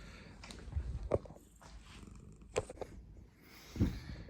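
Edmund, a black-and-white tuxedo cat, purrs up close with a low, faint rumble, broken by a few soft snuffly breaths and small thumps.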